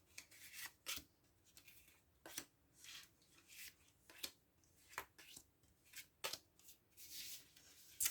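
Tarot cards shuffled and laid out during a reading, heard as a series of soft, quick riffling and sliding swishes in separate bursts, close and quiet, with no talking.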